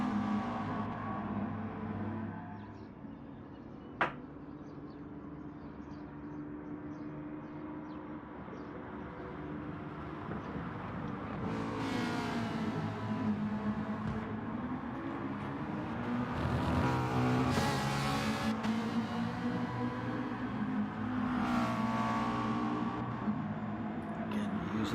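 Race cars lapping in a Gran Turismo race at Dragon Trail Gardens, their engines a muted continuous hum that rises as cars pass, with a race commentator talking over it.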